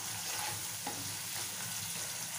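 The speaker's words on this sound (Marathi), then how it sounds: "तेल सुटेपर्यंत आपल्याला" An onion-coconut paste sizzles in hot oil for a brinjal and potato curry, a continuous close frying hiss with a brief stir scrape, no talking.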